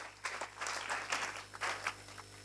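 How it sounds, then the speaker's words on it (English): A quiz audience at a corporate quiz in Dubai gives a short round of applause, a modest patter of scattered individual claps over a steady low electrical hum, fairly quiet and distant. "Can the rest of us give them a round of applause?"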